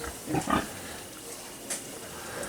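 A large pig gives two soft, low grunts close by, followed by a quieter snort, with faint background ambience.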